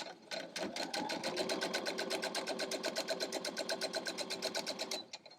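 A sewing machine stitches a star quilt block with a quarter-inch seam, running as a close, steady rapid chatter of evenly spaced needle strokes for about five seconds before stopping.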